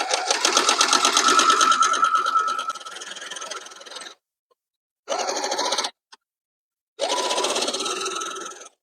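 A sewing machine stitches a quarter-inch seam on a quilt block, running in a long steady whirring burst, then two shorter bursts separated by pauses, close and loud.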